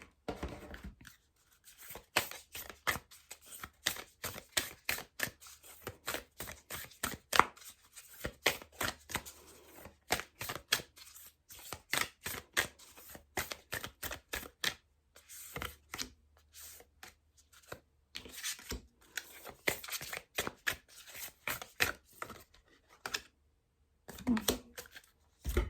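Oracle cards are shuffled by hand during a card reading, producing repeated quick riffling and sliding bursts, close and fairly quiet, with a voice speaking intermittently between them.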